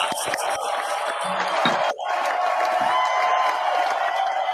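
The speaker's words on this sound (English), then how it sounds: "Let's give him a big round of applause." A crowd cheers and applauds for an event sponsor, a dense wash of clapping and whoops held steady and loud for several seconds, with a brief dip midway before it swells again.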